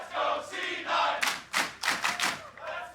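Esports arena crowd at the 2019 Rift Rivals League of Legends event cheering for Cloud9 against G2: loud, rhythmic chanted bursts with thumping claps, several sharp surges in quick succession, filling the hall.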